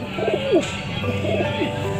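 Soft, low pigeon cooing repeats in rolling phrases, close by, with a faint background hum.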